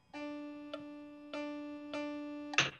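Two long, sustained notes of the same pitch are played one after the other, with faint ticks in between and a short noisy click at the end.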